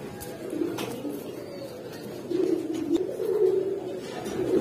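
Pair of red Budapest highflyer pigeons at a breeder's farm, soft repeated cooing murmurs close by, steady and low, with light background noise and no talking.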